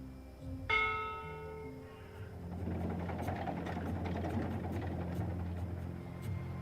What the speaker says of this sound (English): A ship's bell, used to signal a new load of cargo.